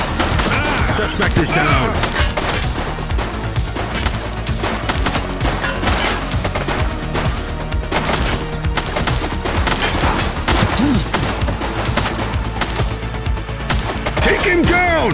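Rapid bursts of gunfire fill a shootout in The Precinct video game, dense and loud throughout with crashes mixed in, while voices call out over the shooting.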